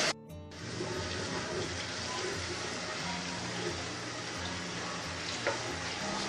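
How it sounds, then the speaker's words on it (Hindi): Ginger garlic paste fries with onions in a pan for an egg kofta curry, giving a quiet, even sizzle with small stirring sounds after a brief clatter at the start. "अदरक लहसुन का पेस्ट डालने के बाद भी अदरक लहसुन को भी हम फ्राई कर लेंगे"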